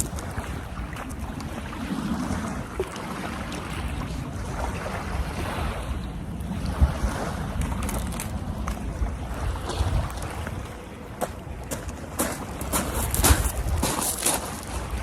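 Wind blows steadily across the water of the Humber during sea fishing, a constant rushing roar with lapping waves and occasional microphone buffeting, no talking.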